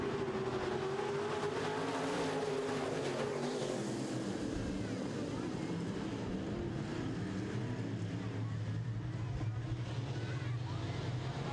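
Midwest Modified race cars roar around a dirt track during a heat race, a continuous loud blur of engines rising and falling, with an announcer talking over the noise.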